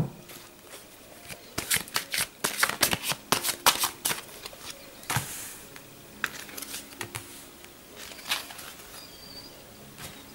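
Tarot cards are shuffled by hand in quick, crisp riffles and flicks, close and fairly quiet, with bursts of rapid slapping separated by short pauses and no talking.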